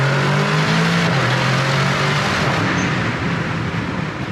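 An Aston Martin DBX707 sports SUV's powerful engine roars loudly as it accelerates hard, the revs climbing steadily in first gear, close by.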